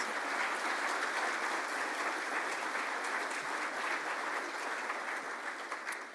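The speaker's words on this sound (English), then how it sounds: "Let's applaud them" Sustained applause from a large crowd, steady and dense clapping throughout, fading slightly toward the end.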